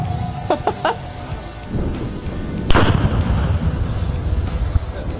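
A rifle fired at targets outdoors before a blackbuck hunt: one loud, booming report with a long rumbling tail, preceded by a few sharper handling clicks.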